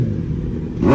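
A tuned superbike, such as a BMW S1000RR or Kawasaki ZX-10R, revs hard at full throttle nearby. The engine roars steadily and swells louder in the final moment, with no talk over it.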